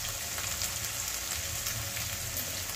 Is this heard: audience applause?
no